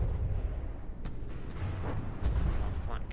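Flak guns firing in the naval combat game From The Depths, a series of low booming bursts and sharp cracks landing at irregular intervals over a rumbling battle din.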